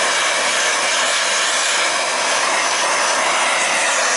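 A heat gun blows a steady, loud broadband roar without pause while warming a VW engine case in a trike shop.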